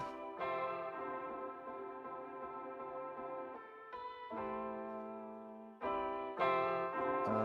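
Sustained synthesizer chords ring out with a washy, echoing tail, each change blurring into the next under heavy reverb.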